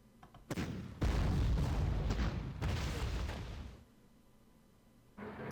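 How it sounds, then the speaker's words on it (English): Anti-tank cannon fire in the strategy game Panzer Corps comes as a loud booming burst with a sharp onset, rumbling and decaying over several seconds before a second blast starts at the end. "What's this? Anti-tank cannon."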